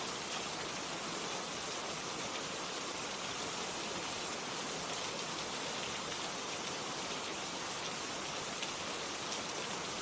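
Steady, even rain falls without pause, a dense unbroken hiss of drops heard alone with no voices or other sounds.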